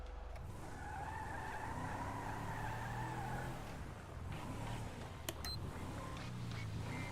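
Truck tires screeching in a driving video game, a sustained squeal with engine drone that runs steadily for several seconds, dips briefly, then returns with a few sharp clicks.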